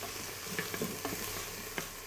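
Onions and garlic fry in oil in a pot for a beef stew, a steady close sizzle broken by a few soft clicks and scrapes as they are stirred.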